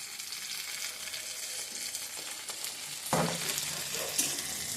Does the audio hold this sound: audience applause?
no